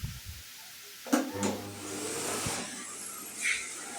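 A household vacuum cleaner, its filters freshly cleaned, switches on with a thump and spins up into a steady whining roar that continues to the end, alone and close.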